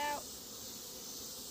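Honey bees swarming around an open hive on a scorching 100-degree day make a steady, dense droning buzz that holds evenly throughout, after a short tonal beep at the very start.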